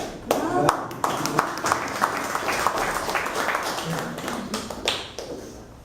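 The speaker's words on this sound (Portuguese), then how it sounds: "E eu vou te aplaudir antes." Small audience clapping for a speaker at a SindBancários workshop interview with a former human rights secretary, sharp close hand claps at first that blend into a steady round of applause, with voices underneath.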